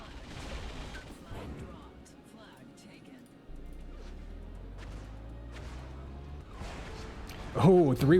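Rockets fire and blast in an Unreal Tournament match: rumbling launches and booming impacts, with a louder burst near the end, under excited live commentary.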